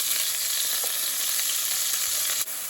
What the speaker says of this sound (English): Here I'm going to add the remainder of my chopped onion and garlic.